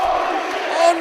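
A wrestling arena crowd roars and bellows after a corkscrew tornado plancha from the top rope to the floor, a dense, sustained wall of voices that swells louder near the end.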